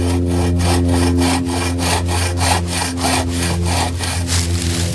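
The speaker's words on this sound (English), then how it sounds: "Right here's where I'm sawing." A hand saw cuts through cedar wood in steady back-and-forth strokes, each pass a loud rasping rub, close and alone with an even rhythm throughout.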